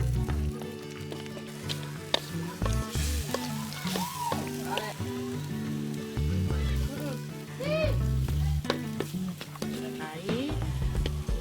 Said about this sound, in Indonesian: Bahan-bahan dipotong, kemudian dimasukkan ke minyak panas dan ditumis hingga matang.